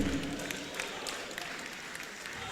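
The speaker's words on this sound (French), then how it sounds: "Applaudissez pour lui." An audience at a boxing fight night event applauding a three-time world champion, with dense steady clapping throughout the short stretch and a voice faintly audible beneath it.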